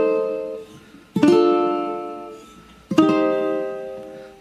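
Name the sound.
ukulele playing intro chord progression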